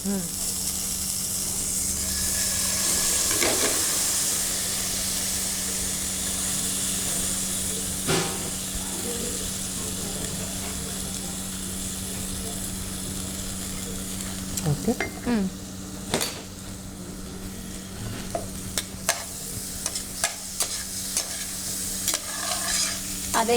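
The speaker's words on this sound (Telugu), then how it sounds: "బాస్మతి రైస్ని మనం ఈ బటర్ గీలో గీలో వేద్దాం" Basmati rice frying in butter ghee for a phirni sweet, with a steady close hiss and sizzle and repeated scraping stirs of the spoon through the pan, growing busier with clicks toward the end.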